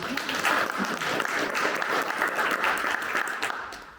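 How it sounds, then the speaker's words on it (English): A crowd at a candidate forum for a Texas primary election applauds their moderator, dense and sustained clapping that stays loud and steady before easing slightly at the end. "Can we get a round of applause for our moderator tonight?"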